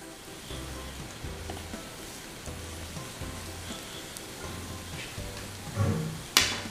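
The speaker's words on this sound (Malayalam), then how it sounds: "ഇനി നമുക്ക് ബ്രെഡിൻ്റെ സ്ലൈസ് ഓരോന്നും ഒന്ന് ഫ്രൈ ചെയ്തെടുക്കാം." Bread slices frying in ghee in a pan for shahi tukda, giving a soft steady sizzle with a few louder crackling bursts near the end.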